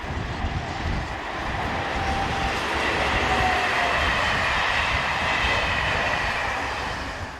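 Locomotive BB 22312 hauls a TER passenger train toward Marseille, a broad, loud rush of wheel and motor noise that swells and holds steady, then eases slightly as it passes close by.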